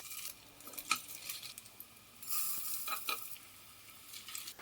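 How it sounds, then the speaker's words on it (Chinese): Chicken breast and lotus root mince spooned into a pan with a little hot oil gives a quiet, steady sizzle, with faint scrapes and light clinks from stirring. "用调羹舀1勺鸡肉馅， 直接放入锅中。"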